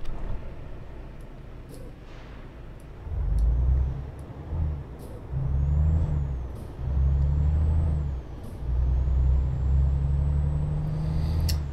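A truck in Euro Truck Simulator 2 with a low diesel engine rumble rising and falling through gear changes, plus short hissing air-brake bursts, steady and near.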